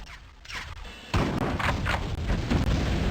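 Bombers drop grenades in Terminator: Future Shock, setting off a run of heavy booming explosions, quieter thuds at first, then a loud sustained barrage of blasts and impacts close by.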